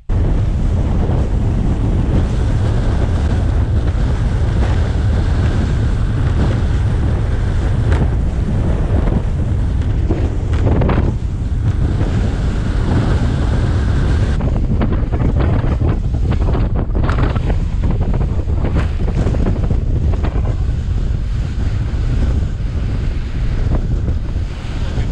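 Strong wind buffets the microphone while waves slap and surge on open water, a loud, continuous roaring rush with gusty swells and no voices.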